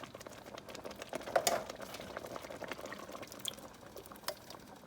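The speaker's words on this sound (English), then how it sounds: "we're going to add all 3 cans of corn, 1 can of the sweet corn, and we're gonna add 2 cans of sweet cream corn" Canned sweet corn and cream-style corn are tipped into a pot of shrimp, crawfish and corn bisque, giving wet, sloppy splashes and pattering liquid plops, loudest around the middle, with no talking.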